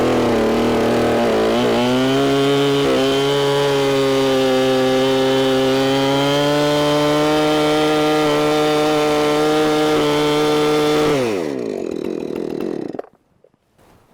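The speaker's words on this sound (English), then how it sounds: "when you're sawing a log that's suspended weird" A chainsaw cuts through a suspended fallen log, its engine droning loud and steady under load for about eleven seconds before it winds down and stops.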